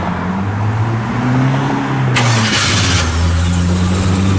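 A 1966 Chevrolet Caprice with a 396 V8 cranks briefly and fires up about halfway through, then settles into a loud, steady, rumbling idle close by.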